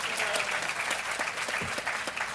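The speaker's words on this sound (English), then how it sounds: "who we're going to just give applause to" Steady applause from an audience at a university award ceremony, dense and continuous with scattered individual claps, moderately distant and filling the room.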